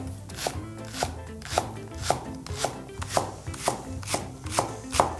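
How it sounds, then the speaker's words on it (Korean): A knife chops green onions on a cutting board in a kitchen, making steady rhythmic knocks about twice a second, crisp and close, with no talking. "파는 송송 썰어주세요."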